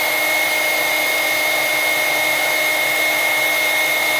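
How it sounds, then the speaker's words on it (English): A grinder fitted with a buffing disc runs at a steady pitch, giving a continuous, even whir with a high whine and no pauses or changes in speed. "a buffing disc on the grinder."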